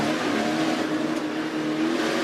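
A NASCAR Camping World Truck Series race truck roars at full throttle on the Eldora dirt track, a loud, continuous engine drone with a rising, straining pitch and no pauses.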